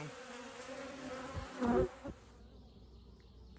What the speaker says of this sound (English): See all the bees buzzing